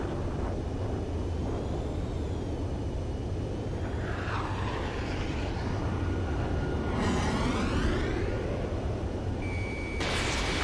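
Enemy transport planes taxi on an air base in Ace Combat 7, a steady engine drone and whine running throughout, with rising and falling jet tones and a high electronic tone near the end.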